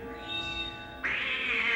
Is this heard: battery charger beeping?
no